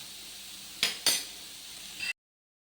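A beetroot mixture sautés in a pan for beetroot kola urundai, with a soft continuous sizzle broken by two sharp scrapes of the stirring spoon and a final clink before it cuts off.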